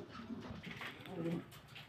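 A pair of Lahori pigeons kept with two chicks gives soft, low cooing, faint and close, in a short quiet stretch.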